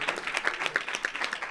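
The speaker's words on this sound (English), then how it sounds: "Yes, that deserves a round of applause." A round of applause from an audience at a public proclamation, steady hand clapping filling the moment without talk.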